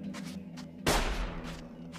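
A single gunshot cracks out loud and sharp partway through a shooting sequence in the hunting survival game Sir, You Are Being Hunted. A low steady ambient hum from the game continues around it.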